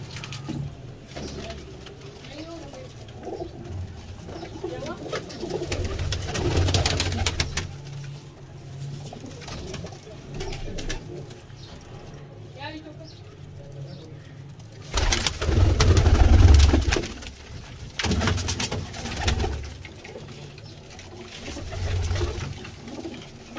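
Racing pigeons being dyed coo in low, soft murmurs throughout, with fluttering and shuffling noises and a louder burst of activity near the middle.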